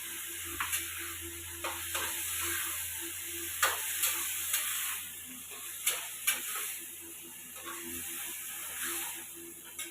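Ground spice paste stirred into a pan of turmeric-and-salt base for a bottle gourd curry with green chillies, giving a continuous hissing sizzle broken by several soft scraping stirs.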